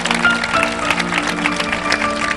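Congregation at a church sermon clapping loudly together, a steady dense wash of applause with no break throughout.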